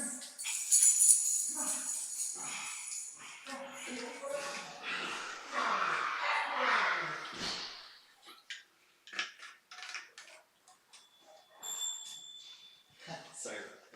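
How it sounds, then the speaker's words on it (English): Dogs bark at intervals in the background, while people talk indoors in a podcast setting and light clatter sounds nearby. "I don't know what they're barking at right now."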